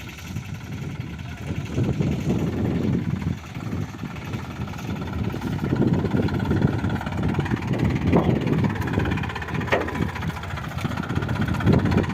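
A tractor with a tank sprayer rumbles steadily at idle beside a groundnut field before pesticide spraying, a continuous low engine drone heard close, with no talking.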